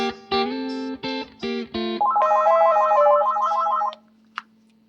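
A phone rings with a warbling electronic ringtone, a rapid repeating trill that follows several short tonal bursts, fairly loud and close during a guitar lesson on double stops, with no talk.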